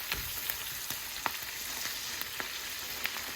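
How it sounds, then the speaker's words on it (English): Cabbage stems sautéing in a hot pan give a steady, close sizzle with small pops and crackles throughout, with no voices. "So we just want to saute them down a little bit before we add the other parts of the cabbage."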